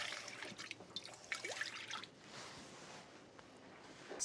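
Water runs and trickles into a can of crushed tomatoes being rinsed in a kitchen, a soft, fairly quiet splashing and dribbling that fades to a gentle trickle.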